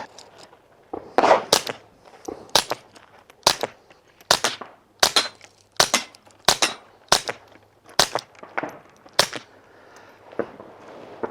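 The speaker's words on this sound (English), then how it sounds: "gonna fire the old one, the Mask, on the exact same gun" Suppressed .22 pistol shots from a Ruger Mark IV Lite fitted with a Dead Air Mask suppressor, about a dozen sharp reports fired in a steady, fairly quick rhythm, close and alone with no talking.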